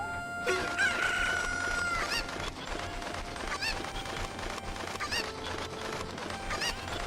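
Video game chickens cluck and squawk in short repeated calls. A higher, drawn-out crow rings out near the start, all over a steady layer of background game sound.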